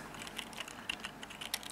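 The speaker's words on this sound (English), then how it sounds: "Just got leaning on the keyboard" Computer keyboard keys pressed on a Raspberry Pi setup, a quiet irregular run of soft clicking taps close by, with a few sharper keystrokes and no talk.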